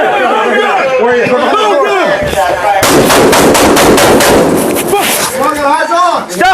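Gunfire inside a high school during a shooting, a rapid burst of sharp cracks amid loud, frantic shouting voices, the shots dense and chaotic in the middle of the clip.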